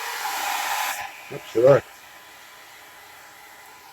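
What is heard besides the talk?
blow dryer running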